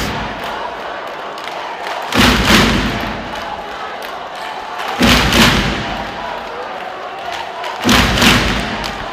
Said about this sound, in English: He can't talk over this crowd